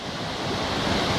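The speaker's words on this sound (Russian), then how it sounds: "Это река Теберда. Посмотрите, какая она красивая. Какая она бурливая." The turbulent, churning Teberda river, slightly muddy, rushes in a steady, dense roar with a breezy edge, close and continuous with no voices.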